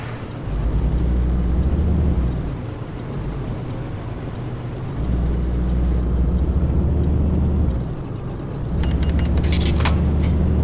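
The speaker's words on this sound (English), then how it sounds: "There's the air brake. You heard it a little bit as it was draining." Air brakes on a truck in Euro Truck Simulator 2 let out long, loud hissing releases that rise in pitch and hold steady. A deep engine rumble runs under them. The releases repeat several times, with sharper clatter near the end.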